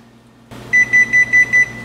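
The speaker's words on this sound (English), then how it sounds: "As you heard the beep, the oven is preheated at 500 degrees Fahrenheit." Five evenly spaced electronic beeps from an oven signaling it has preheated to 500 degrees Fahrenheit, loud and close, over a steady low hum.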